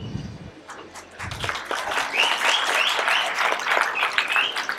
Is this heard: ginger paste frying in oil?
no